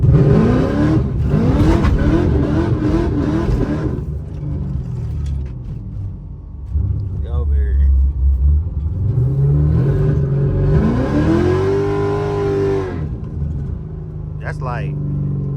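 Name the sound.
Pontiac G8 car accelerating at night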